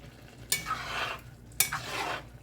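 Spoon scraping and pushing lima beans around in a pot, two soft scuffing strokes about a second apart, quiet and close with a faint sizzle underneath.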